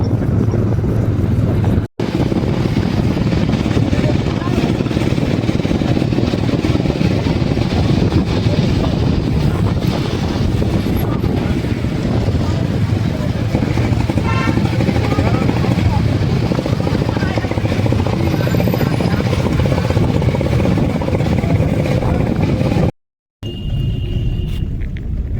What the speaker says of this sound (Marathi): ब्रिज बघा भावांनो वरून रेल्वे चालली